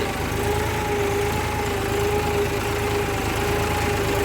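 A tractor engine drones steadily and loudly throughout during land levelling, running in two-wheel drive with slipping tyres, a constant mechanical hum with no pauses and no voices.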